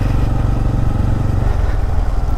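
Bajaj Pulsar N250 motorcycle being ridden, its engine thrumming steadily and loudly up close with a continuous low rumble and wind noise.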